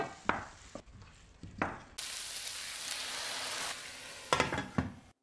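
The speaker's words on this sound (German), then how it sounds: "Hier kommt Blumenkohl und Kartoffel rein, alles auf mittlerer Hitze gut anbraten." Cauliflower and potato sizzle loudly in a pan over medium heat for a couple of seconds between scraping stirs and clunks of a utensil against the pan, with no talking.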